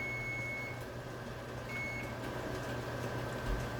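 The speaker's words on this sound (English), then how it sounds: "there goes the timer" A kitchen timer beeps during water bath canning: a thin, steady electronic tone sounds, cuts out, then returns briefly, faint over a low hum of background noise with no talking.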